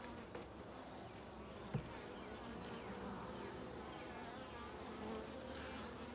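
Honey bees fill an open top bar hive during a midsummer inspection, a dense, steady buzzing drone from many insects close by, with no talking and only a faint knock near the middle.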